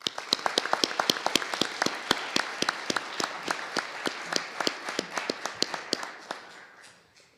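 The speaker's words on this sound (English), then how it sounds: "Let's give them a round of applause." A small audience applauds at an Eagle Scout Court of Honor, a modest round of close, distinct hand claps at a steady pace that tapers off toward the end.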